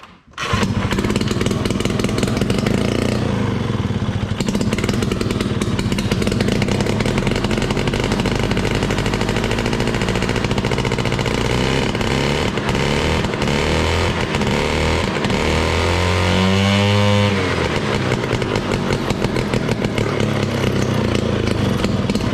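A 1968 Ski-Doo Alpine 370 snowmobile engine runs loud and steady throughout, with a rough two-stroke clatter and a rising rev swell near the end, no talking.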